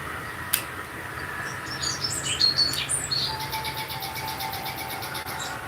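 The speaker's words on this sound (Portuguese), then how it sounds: "Vocês estão ouvindo o barulho de pássaro?" Small birds chirp and trill outside a house in Mairiporã, a series of quick high tweets and rapid repeated notes over a steady outdoor hiss, moderately near.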